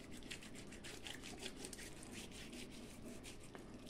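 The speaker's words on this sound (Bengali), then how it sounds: "লেবু দিয়ে প্রথমে আরেকটু ঘষে নিই" An old conch shell being scrubbed with lemon, a steady, continuous rubbing and scraping with quick repeated strokes, close and fairly loud, with no voices.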